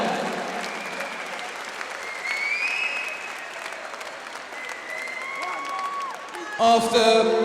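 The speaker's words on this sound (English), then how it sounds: "let's give both of these fighters a massive round of applause" Spectators at a ladies' boxing bout applaud both fighters, a steady wash of clapping from a large crowd with scattered whistles and cheers, and a louder burst near the end.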